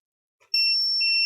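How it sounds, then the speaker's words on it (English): A multimeter in continuity mode gives a sudden, sustained high-pitched electronic tone after a brief click while a laptop is tested, clear and close for about a second. "Let's put it back on beep, because we like the beep."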